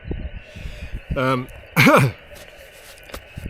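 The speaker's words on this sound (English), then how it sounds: "Sorry, bit of a cough." Two short, harsh coughs close to the microphone, separated by a brief pause, over a quiet background.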